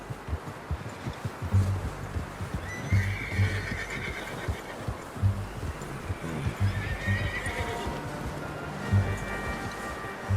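A horse in Red Dead Redemption 2 neighs loudly and close while hooves clip-clop in an uneven rhythm over a rustling outdoor ambience.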